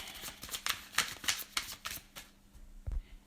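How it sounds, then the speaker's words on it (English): Tarot cards are riffled and shuffled by hand at close range, a series of quick, soft papery flutters and taps in a quiet room, ending with a light thump. "I'm shuffling."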